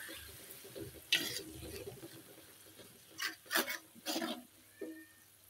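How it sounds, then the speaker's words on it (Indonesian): Soy sauce mixture, sweet and salty soy, being stirred in a frying pan, giving a few scraping, sizzling bursts of moderate loudness with gaps between strokes. "Selanjutnya kita akan aduk-aduk pemirsa"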